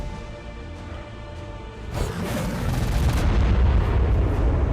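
Big explosions in the video game ARK Primal Fear start as a steady rumble, then swell into a loud, dense barrage of blasts that keeps booming until the end, with no talking.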